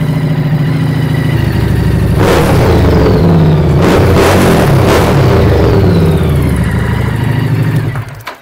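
A 2014 Harley-Davidson motorcycle engine running loud and close, with a deep rumbling idle swelling into several revs before cutting off at the end.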